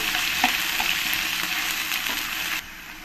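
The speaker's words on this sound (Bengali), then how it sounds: "দিয়ে ভালো করে পেঁয়াজের সঙ্গে আমি কষিয়ে নেব" Onion paste sautéing in hot oil in a pan while being stirred and cooked down for a koi fish curry, a close, steady sizzle with faint scraping ticks, cutting off abruptly near the end.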